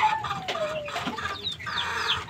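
A fighting rooster of the Talisay gamecock line clucks and calls close by, a string of short, loud squawks and rising cries with faint farmyard background noise.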